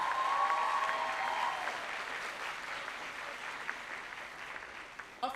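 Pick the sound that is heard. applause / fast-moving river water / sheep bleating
applause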